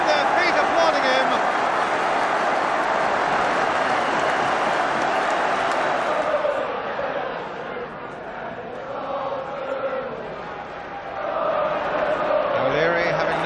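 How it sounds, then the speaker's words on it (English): A stadium crowd at a 1978 FA Cup match applauds a goal with a broad, sustained roar and clapping that stays loud, then dips and swells again, while a commentator talks over it. "On the Arsenal bench as well as in the Arsenal goal, they're on their feet applauding him"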